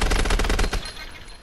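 Rapid automatic gunfire from the shooter Call of Duty: Advanced Warfare rattles out as a fast, evenly spaced burst of loud shots for under a second, then cuts off into a fading echo.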